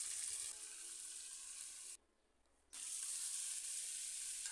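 Cauliflower, beans and potato frying in a pan as soaked matar dal is added, a loud steady sizzle that cuts out briefly for under a second before resuming at full strength.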